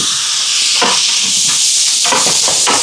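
Chopped tomatoes hit a hot pan for a Christmas charity meal, giving a steady loud sizzling hiss with a few sharper bursts as pieces land, no talking.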